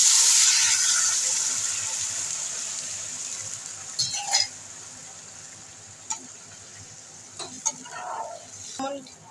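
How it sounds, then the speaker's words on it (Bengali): Water is poured into a pan of raw mango chutney, with a rushing pour at first that fades, followed by scattered clinks and stirring scrapes of a spoon against the pot. "আমি জল দিয়ে দিচ্ছি"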